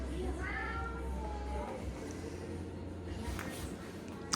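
A cat meows late at night for a midnight snack, a couple of short plaintive calls near the start, then quieter room sound with faint background noise.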